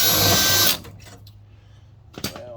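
Power drill boring a rivet hole in the exhaust of a 1964 Suburban: a loud, steady whine cuts off abruptly after under a second, followed by faint shop quiet and a brief second burst.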